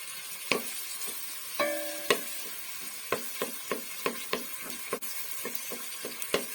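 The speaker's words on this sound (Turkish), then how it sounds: "İlk aşamada soğanları güzelce ne kavuruyoruz" Onions sautéing in a pan for a carrot, rice and cauliflower dish, a quiet sizzle under repeated sharp spoon taps and scrapes against the pan at an irregular rhythm, close up.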